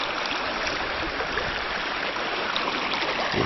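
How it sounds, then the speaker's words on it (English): Deep creek water runs in a steady, unbroken rush, close and fairly loud, with no voices over it. "You can see where the creek becomes very deep here."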